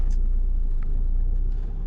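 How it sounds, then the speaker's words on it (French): Car slowly reversing into a parking space during a driving test: a steady low engine hum and interior rumble throughout, with a few faint clicks and no talk. "Je continue à reculer pour me mettre bien dans la place"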